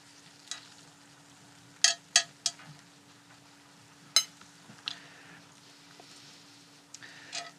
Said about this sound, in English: I'm going to spoon this sauce over the top